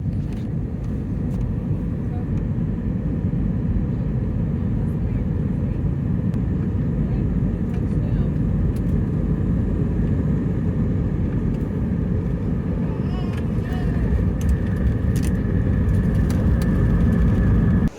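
Steady, loud roar of a Delta airliner cabin in flight, a broad low rumble of engine and airflow noise holding constant throughout.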